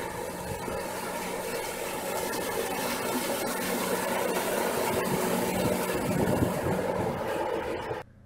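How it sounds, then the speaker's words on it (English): A 70-horsepower outboard motor pushes an offshore power dory at speed, a steady, unbroken mechanical roar with broad engine and water noise that holds at an even level throughout before cutting off at the end. "This one has a 70 horse motor on it. And here's him running with that motor."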